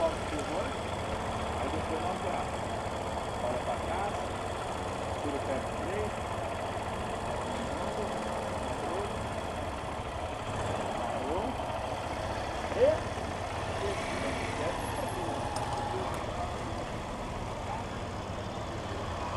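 A low, steady motorcycle engine idles throughout with a rough rumble, fairly close, on a motorcycle training track outdoors, while background noise continues and a brief knock sounds near the end.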